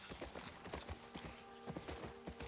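Steady walking hoofbeats of a horse in The Last of Us Part II video game, quiet, even clip-clops repeating about four times a second against a low background hum.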